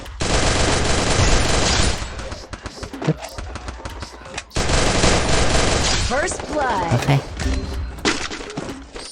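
Gunfire in the mobile battle-royale game Free Fire: dense, loud bursts of automatic shots with sharp impacts and breaking sounds, heard in two long volleys with a short lull between them, while a player talks over the action.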